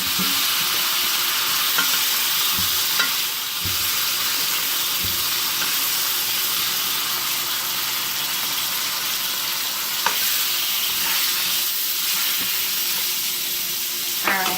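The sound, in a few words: T-bone steak sizzling in a pan after being turned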